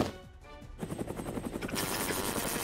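A rapid, rhythmic helicopter-like chopping whirs steadily and grows louder and denser partway through, sounding synthetic and close, from the video game Code: Realize Guardian of Rebirth.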